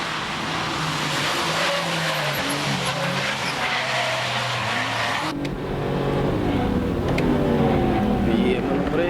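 Loud engines of a Nissan 350Z and Honda S2000 roar and rev continuously as they race past, pitch climbing and dropping with gear shifts, with voices talking over the noise.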